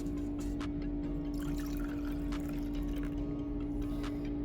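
Homemade ginger tea with lemon poured from a container, a soft continuous trickle of liquid over a steady background hum, close and faint.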